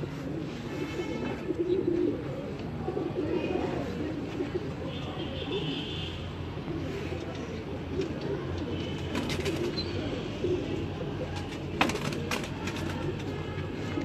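Pigeons cooing in an open courtyard loft of a breeder's flock, soft repeated coos with scattered chirps and wing or movement noises, a few voices in the background.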